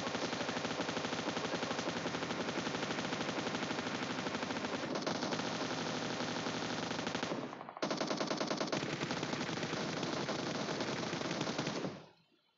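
Automatic gunfire in a video game: a loud, unbroken stream of rapid shots that pauses briefly about two thirds of the way through, then resumes and cuts off at the end.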